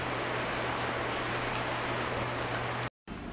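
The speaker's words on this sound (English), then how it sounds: "And the rain is always interesting." Rain falls steadily in Southeast Asia as a dense, even hiss with a faint low hum beneath. It holds for a few seconds before a momentary dropout to silence, then resumes.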